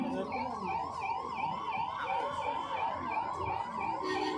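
An ambulance siren wails steadily nearby during an outdoor election campaign event, its rising and falling tone cycling over and over through the whole stretch above a noisy background.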